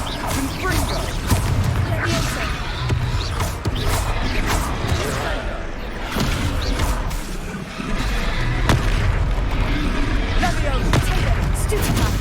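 Confringo blasting spell in Hogwarts Legacy combat: a busy, loud mix of sharp cracks, crashes and mechanical rumbles repeats throughout, with voices talking amid the bursts of spell impacts.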